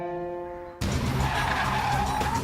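Stock cars skid during a race, a sudden loud burst of tire-scrubbing noise and engine roar that cuts in after a steady tonal hum and continues close and harsh.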